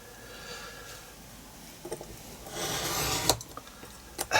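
Scissors trim the edge of a paper art tag, giving soft rasping rubs and a few small crisp snips up close, quiet against a faint room hum, without speech.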